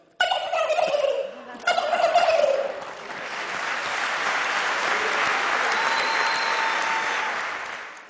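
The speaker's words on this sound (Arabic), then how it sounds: "صوت الديك الرومي" A male turkey gobbles in two quick rattling bursts, close and loud, followed by a long wash of noise resembling applause.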